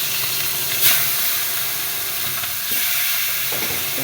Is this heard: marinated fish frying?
yes